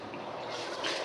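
Rice being washed in water in a home kitchen gives a short, soft swishing and trickling of liquid, fairly close and steady with no talk.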